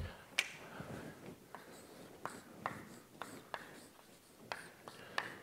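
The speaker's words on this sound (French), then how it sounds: "Je vais écrire sur l'autre côté, comme ça." Chalk or marker strokes on a board while a formula is written in a mathematics lecture, a series of sharp taps and short scratches at irregular intervals, fairly close and quiet, with faint breathy voice sounds between them.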